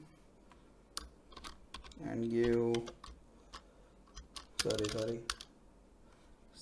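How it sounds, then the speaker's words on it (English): Scattered keyboard taps click through a quiet room, broken up by two short bursts of speech. "I'm just typing a basic HTML"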